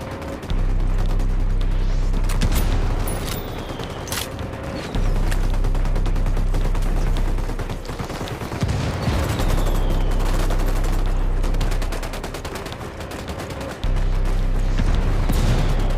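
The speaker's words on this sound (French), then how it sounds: "J'ai une solution de tir. Ouvrez le feu." Sustained gunfire in the Ghost Recon Wildlands video game, with bursts and volleys of automatic weapons and booming shots layered over one another, loud and near, almost continuous with brief breaks.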